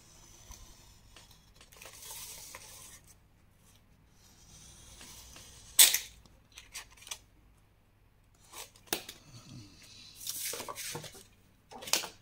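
Scissors cutting around the edge of a cardboard box base for a scrapbooking craft, quiet intermittent snips and rustles spread across the stretch with a few sharper clicks, close and soft.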